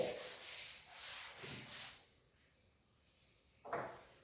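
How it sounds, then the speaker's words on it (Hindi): An eraser rubs across a classroom board in a few quiet back-and-forth strokes, then a pause and one short final swipe. "थोड़ा सा रब कर लेता हूँ"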